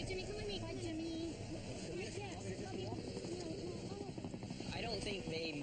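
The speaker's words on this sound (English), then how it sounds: "Just 3 miles from the LZ, an emergency helicopter arrives to take Jimmy to the nearest hospital." An emergency helicopter arrives at a landing zone in the Alaskan wilderness, its steady rotor and engine drone filling the scene continuously while people talk over it.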